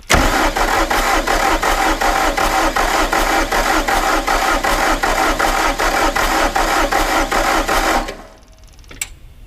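Bobcat S250 skid steer diesel engine cranking without firing after its injectors were bled: a loud, rapid rhythmic chugging of the starter for about eight seconds, then it stops abruptly, followed by near-silence and a faint click.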